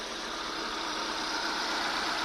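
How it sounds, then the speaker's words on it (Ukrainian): A 250,000 km Renault Mégane 2 engine idles steadily, heard from the open engine bay as a constant, even hum with no talking. "І вернемося опять-таки в наш моторний відсік і послухаємо наш двигунець"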